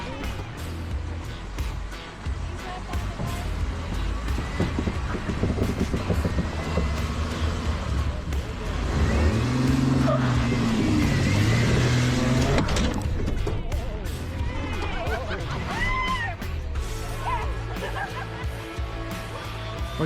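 An off-road vehicle's engine revs hard on the throttle during a first-time off-road drive, a loud continuous rumble that swells in the middle, with laughter and chatter from the occupants over it.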